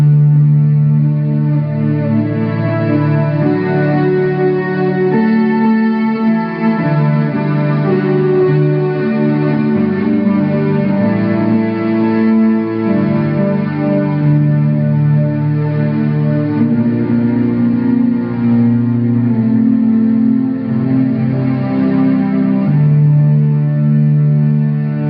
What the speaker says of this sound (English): now let's add some delay and reverb from the Eventide